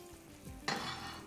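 A little minced garlic hits hot oil in a pan for grilled sautéed vegetables, bursting into a sudden close sizzle that holds steady after a soft scrape.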